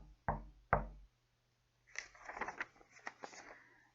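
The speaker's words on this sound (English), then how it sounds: "there was another knock at the door" Two firm, close knocks on a wooden door, evenly spaced, then a pause before a softer flurry of lighter taps and rustling.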